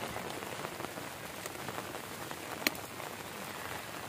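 Heavy rain pours steadily onto a rice paddy in the Konkan region near Malvan, a dense, even hiss of drops with one brief sharper patter, no voices.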